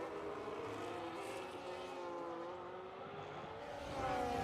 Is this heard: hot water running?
no